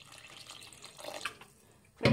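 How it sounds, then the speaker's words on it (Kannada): Water pours into a pot of goat head curry, a soft trickling splash that swells near the end, quiet and close with no talk. "ಇನ್ನೂ ಒಂದು ಸ್ವಲ್ಪ ನೀರು ಹಾಕ್ಕೊತಾ ಇದ್ದೀನಿ"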